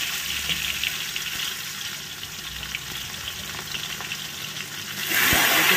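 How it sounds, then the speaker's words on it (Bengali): Round slices of bitter gourd fry in oil with a steady, moderately loud sizzle and faint stirring, swelling into a brighter, louder hiss near the end; no one speaks. "গোল গোল করে চাক চাক করে ভেজে নেবে"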